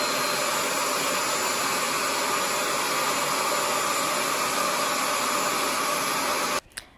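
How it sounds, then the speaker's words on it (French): Bissell SpotClean Pet Pro suctioning water from fabric, a loud, steady, hissing whine of suction that holds for several seconds before cutting off abruptly, followed by a couple of soft knocks. "l'aspirateur fait vraiment beaucoup de bruit"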